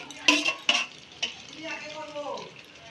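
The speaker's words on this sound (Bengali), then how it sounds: "দইটা ভাজা মশলা মিশিয়ে রেখেছিলাম সেটা দিয়ে দিচ্ছি" Mutton kosha in a pan as yogurt mixed with fried spices is added and stirred: a few sharp clanks of a spoon against the pan, then softer scraping and a low sizzle, with a faint voice in the background.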